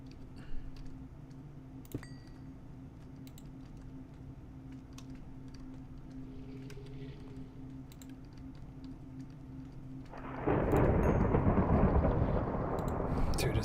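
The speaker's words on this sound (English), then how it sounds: "I still find it crazy that we've had 2 thunderstorms so far." During a Minecraft thunderstorm, a faint background hum with scattered ticks gives way to a sudden, loud rush of rain noise that continues to the end, and a low rumble sits beneath it.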